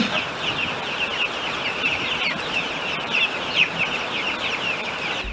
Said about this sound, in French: Il s'agit là des poussins de 2 semaines et 4 jours qui pépillent